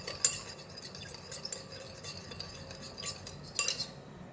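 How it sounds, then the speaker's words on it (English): Salt and sugar being stirred into apple cider vinegar for pickling green chillies, a quiet close clinking of a spoon against a glass or bowl, irregular taps without talk. "Just continue to mix until the sugar and salt is dissolved"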